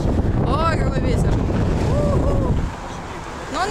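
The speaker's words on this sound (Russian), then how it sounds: "Ой, какой ветер." Strong wind in Saint Petersburg buffets the microphone in a loud, roaring rush that eases near the end, with a voice briefly heard through it.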